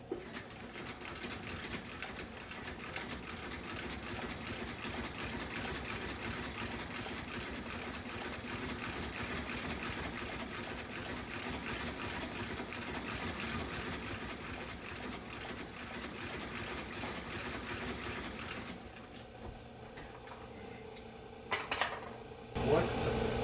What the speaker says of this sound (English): we're gonna go ahead and do an outsole stitch, stitching the welt, the midsole, and the sole all together.